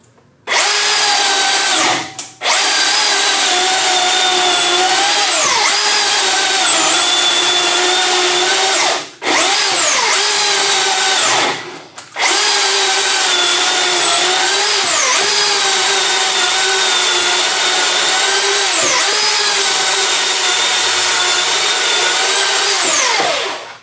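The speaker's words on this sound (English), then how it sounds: "The secret with this chainsaw is knowing exactly how much push to put on it." A Milwaukee battery chainsaw whines loudly and continuously, its pitch dipping as it bites into wood, with a few brief pauses between cuts.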